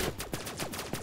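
Rapid bursts of gunfire from a Roblox shooter game played on Xbox One, a few sharp shots in quick succession over about a second, fairly loud and close.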